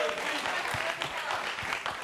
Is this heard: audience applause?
yes